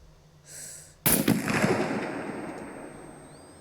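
Sniper rifle shot in the survival video game SCUM: a soft hiss leads into a single sharp, loud crack with a long rolling echo that fades slowly over a couple of seconds.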